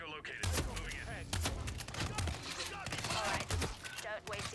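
Shotgun blasts in Hitman 3 land as several heavy, booming thumps at irregular intervals over a busy game soundscape, with a voice speaking between the shots.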